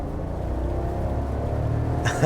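A 2022 GMC Sierra Denali Ultimate pickup with its V8 engine on the road, giving a steady low engine rumble and drone that holds even throughout, with a brief brighter bump near the end.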